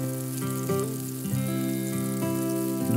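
Vegetables fry in oil in a pan, a steady close sizzle with crackling pops, layered over sustained tonal music in the background.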